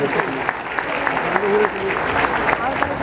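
Church congregation giving a round of applause as an offering of praise during a worship service in Monterrey, Mexico; steady dense clapping throughout with voices and cheering mixed in.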